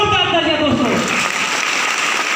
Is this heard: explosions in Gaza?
no